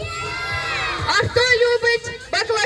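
Children shouting loudly together at a weekly kids' party, a burst of high excited yelling and cheering that rises, breaks and rises again after an adult voice.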